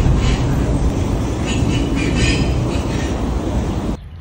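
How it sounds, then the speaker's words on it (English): Loud, steady rumble and rush of a moving train heard from inside a carriage, with faint rattling before the noise cuts off abruptly near the end. "We're now on the train."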